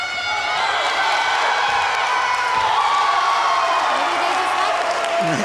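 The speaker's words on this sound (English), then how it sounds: "why do they cheer so loud for you?" A loud crowd cheering and roaring continuously at a cheerleading competition, a dense wash of voices and whoops that holds steady throughout.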